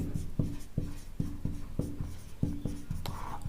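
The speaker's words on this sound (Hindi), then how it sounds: "तो मैं लिख रहा हूं" Chalk or marker writing on a board while a math problem is worked out, heard as a close series of rhythmic scratching strokes and taps in quick succession, with no voices.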